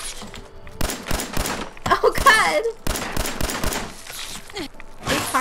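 Repeated gunshots in Fallout 4, fired at close range at a legendary rat roach: sharp cracking bursts in uneven volleys, some rapid, with brief pauses and creature sounds between, loud and up front.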